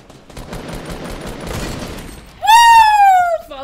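Gunfire in Fortnite Battle Royale: a short burst of rapid loud shots, followed by a sharp bright ringing tone that fades after about a second.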